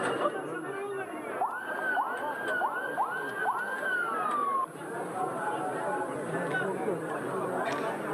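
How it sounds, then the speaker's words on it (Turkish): Ambulance sirens wail, rising and falling in repeated swoops over a noisy crowd of chattering voices outside a mine disaster site, then fade into the general babble. "Siren seslerini duyuyorsunuz."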